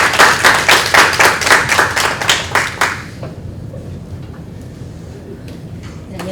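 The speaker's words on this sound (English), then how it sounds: "Please join me in welcoming Dr. Oh with a warm round of applause." A conference audience claps warmly for about three seconds in a steady, dense burst, then the applause stops and the hall is quiet apart from faint room noise.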